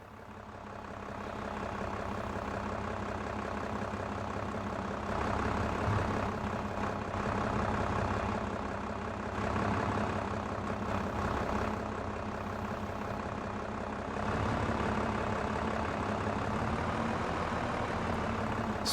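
A tractor engine in a farming simulator game drones steadily at a loud, constant level, with a low, heavy rumble that holds almost unchanged throughout and no talking over it.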